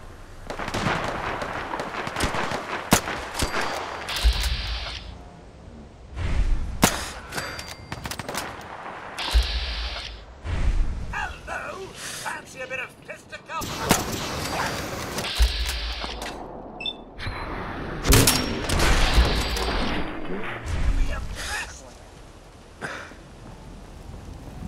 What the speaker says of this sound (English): People shooting at that building.